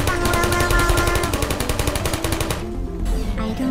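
Portal video game turrets fire a rapid, continuous burst of gunfire, loud and close, before the shooting cuts off and quieter game sounds follow, with no talk.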